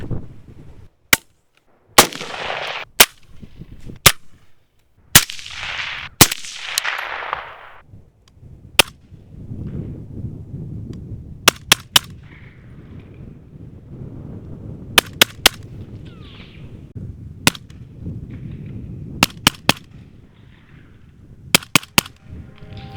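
Suppressed 7.62 rifle shots from a titanium Hydrogen S and an Inconel ODB 718 suppressor crack out one after another, sharp and loud with short echoing tails, irregularly spaced and sometimes in quick pairs, with faint murmuring between shots.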